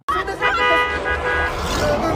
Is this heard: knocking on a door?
no